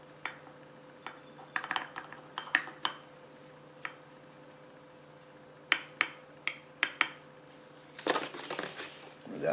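Spoon scooping ground coffee for a Casabrews compact espresso machine, a series of light scraping crunches and small metallic clinks near the mic over a low steady hum, with a louder rustling burst near the end.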